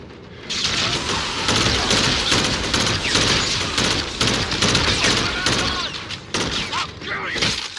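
Dense, continuous gunfire from a Call of Duty: Infinite Warfare battle, sustained bursts and crackling shots running almost the whole way, with brief sharp breaks and a faint voice underneath.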